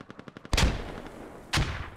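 Gunfire and grenade blasts in the video game Squad, inside a compound: a quick string of five light shots, then a heavy booming detonation that rings out, and a second loud blast about a second later.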